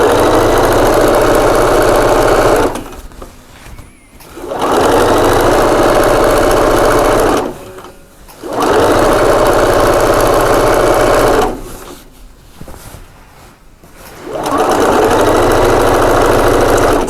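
A sewing machine stitches quilt fabric in loud, close bursts of rapid whirring, each run lasting a few seconds and separated by brief pauses as the machine stops and starts again.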